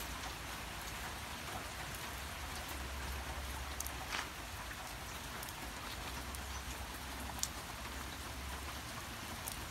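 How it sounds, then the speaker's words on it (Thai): Steady rain falls outdoors, a dense continuous hiss with occasional louder drops striking nearby surfaces; no voices. "นอกฝนตก"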